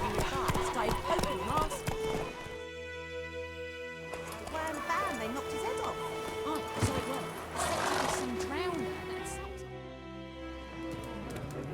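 Horse hooves clatter rhythmically as a horse gallops in The Witcher 3, with a whinny and voices over a continuous musical background.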